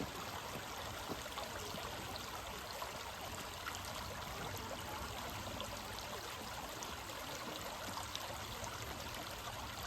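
A river runs under a bridge in Cardinham Woods, a steady, full rush of flowing water heard close and alone with no voices.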